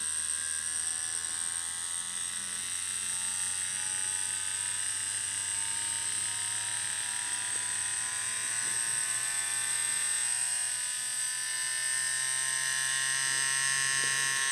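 A Poseidon wireless adjustable tattoo pen whirs in a continuous high, even buzz that climbs in pitch as its voltage and speed are raised, steady and close with no talk.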